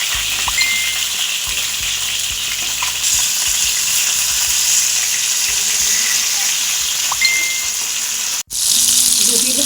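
Pieces of hilsa fish fry in oil in a pan, a loud steady crackling sizzle with scattered spatters and soft knocks, briefly cut off near the end before resuming, no speech.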